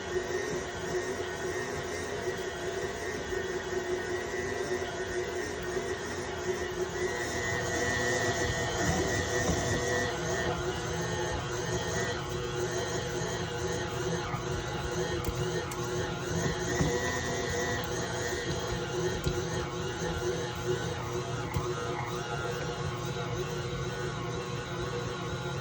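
A stand mixer kneads pizza dough at a higher speed, giving a steady, loud mechanical whir and rattle that runs unbroken for the whole stretch with no talking.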